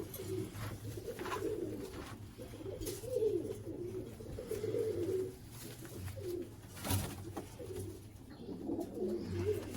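Teddy and golden pigeons at a pigeon sale coo repeatedly in low, throaty rolling phrases, close by, with soft background noise between calls.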